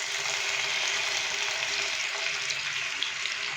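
Finely chopped tomatoes drop into lightly heated oil, giving a steady, dense sizzle that stays loud and even throughout with no voices.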